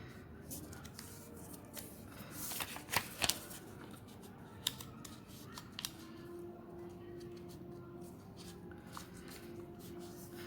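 Paper being folded and creased by hand for a star-shaped diya, with soft crinkles, a cluster of sharp crisp presses near the start and scattered lighter taps after, quiet and close.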